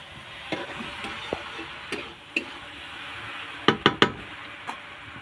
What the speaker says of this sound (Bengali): শুটকি মাছটা দিয়ে এই যে নাড়াচাড়া করে